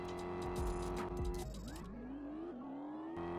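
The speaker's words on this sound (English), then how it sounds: "And now I'm racing a McLaren." McLaren car racing in the Vehicle Legends video game, a loud continuous engine roar with rising and falling revs as it shifts through gears, heard close and alone.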